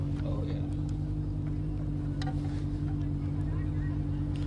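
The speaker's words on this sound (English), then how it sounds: "Sporting a 2008 four-cylinder Suzuki. That's why it sounds like a motorcycle." A 1971 Datsun 1200 Coupe, stretched and fitted with a 2008 Suzuki four-cylinder engine, drones steadily at a dry-lake race. The engine note is even and moderately distant, with people talking over it.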